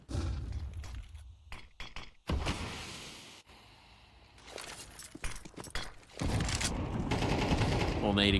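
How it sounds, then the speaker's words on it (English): Grenades traded in a Counter-Strike esports match at ESL Challenger League burst as several loud, clattering blasts mixed with gunfire, while a commentator talks over them. "Little nade exchange there."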